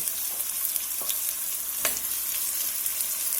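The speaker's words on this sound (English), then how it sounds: "We're just going to let these brown up a little bit on each side" Beef short ribs searing in a hot pot, a steady loud sizzle and crackle of frying meat with a few sharp pops, alone without talk.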